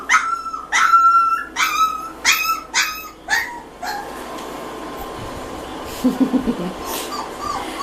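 Three-week-old puppies whimper and yip, a run of high, close, repeated cries at first, then softer whines and faint yelps trailing off.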